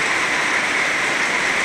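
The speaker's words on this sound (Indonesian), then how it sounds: "saat ini suasananya hujan deras" Heavy rain pours down steadily at an abandoned house, a dense, loud, even hiss with no breaks and no voices.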